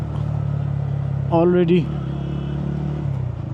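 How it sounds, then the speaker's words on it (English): Motorcycle riding at night through congested traffic on the NH2 highway between Panagarh and Kolkata, a steady low engine and road hum throughout with a brief spoken voice partway through. "traffic congestion."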